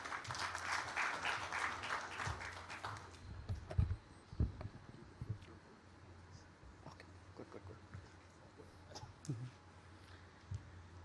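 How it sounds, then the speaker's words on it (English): Faint applause from an audience at the Andhra Pradesh Global Investors Summit 2023 in Mumbai, starting as a brief burst of clapping and then thinning into scattered claps and room noise. "Let's all welcome him with a big round of applause."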